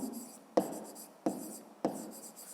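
Pen writing in a notebook during a fifth-grade maths exercise, with three short scratchy bursts of pen strokes on paper, each starting with a sharp tap and fading over about half a second, close and fairly quiet.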